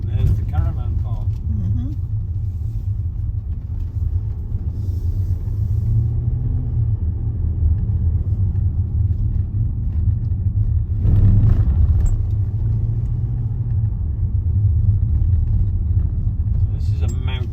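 A car drives along a mountain road in Wales, its steady low engine and tyre rumble filling the cabin throughout, with a brief louder surge near the middle and people talking over it at times.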